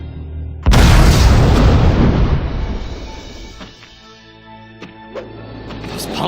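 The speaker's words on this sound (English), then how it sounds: "Those pumpkin bombs sure came in handy." Pumpkin bombs explode in the Spider-Man: Friend or Foe video game, a sudden loud boom that rolls into a long fading rumble, followed by a few smaller pops and bursts.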